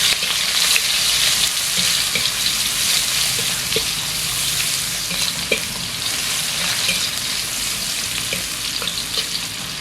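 Cabbage, carrot, shallots and garlic stir-fry in a pan with a steady, dense sizzle throughout, broken by occasional soft clicks of a utensil stirring.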